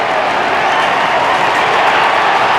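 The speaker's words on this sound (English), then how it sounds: "I think he heard he was clear because the crowd roared" A dense, steady crowd roar fills a packed stadium at a 1994 AFL match between Richmond and North Melbourne, sustained and loud throughout after a Tigers goal, with no voices standing out.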